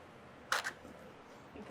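A camera shutter fires once on a long, slow exposure during a live shutter-drag photo demo: an opening click, a brief open stretch, then a second closing click, close and crisp against a quiet room.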